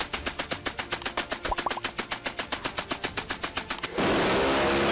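A Maxim machine gun fires a steady, rapid, evenly spaced burst of loud reports for about four seconds, then cuts off into a hissing wash of noise.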